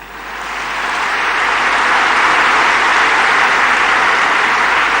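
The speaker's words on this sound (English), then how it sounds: "Let's show our appreciation with a thunderous applause for those winners amongst us." Thunderous applause fills a large hall at a science congress inauguration ceremony, swelling in over the first second and holding as a steady, dense roar of many hands.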